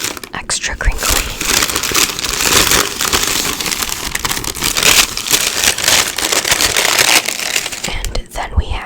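Tissue paper inside a Jordan 1 Low sneaker box crinkles and rustles loudly and close up in continuous crackly bursts, with soft whispered talk mixed underneath.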